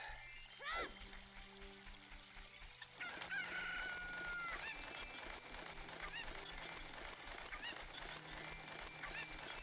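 A chicken in a Zelda randomizer video game crows and clucks loudly over busy game music and sound effects.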